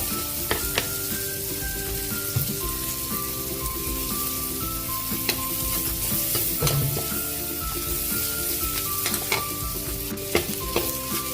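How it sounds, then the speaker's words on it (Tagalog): Onion sautéing in butter and garlic in a pan, a loud continuous sizzle close up with scattered pops and utensil taps, no voices. "Magigisa na tayo. Nilagay na natin yung ating butter at garlic."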